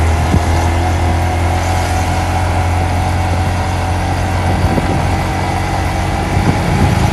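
A vehicle engine runs steadily at low revs after a downshift during a ride, a constant close rumbling drone with faint background noise and no talking.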